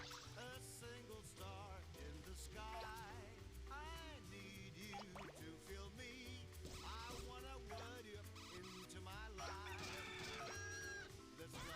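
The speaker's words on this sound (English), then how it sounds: "I thought the penguins made the chicken noise" Cartoonish clucking and chicken-like squawks from penguins in Katamari Damacy, repeated in quick bursts over busy, continuous game music with bouncy melodic tones throughout.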